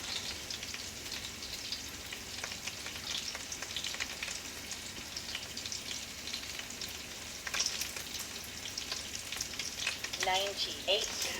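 Sausages fry in a pan with a dense, continuous crackling sizzle like light rain, fairly faint and unbroken, with a few brighter pops near the end.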